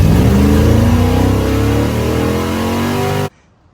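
A Chevrolet Camaro with a swapped torque converter roars loudly up close, its engine revving high and then easing before cutting off abruptly into silence.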